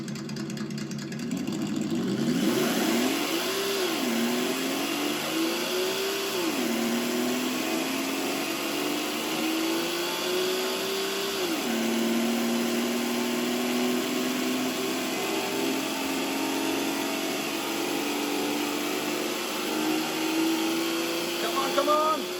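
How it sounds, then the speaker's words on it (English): A racing simulator car engine is held at full throttle, with revs climbing in long sweeps and dropping sharply at each gear change. The engine drones steadily at moderate loudness, and a voice speaks over it. "We're going to hit full throttle now and listen to the gear changes."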